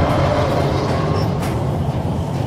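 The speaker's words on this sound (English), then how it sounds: "The train's slowing." A moving train rumbles in the video game Crysis Warhead, a loud continuous rolling roar with rail clatter that holds steady throughout, close and without voices.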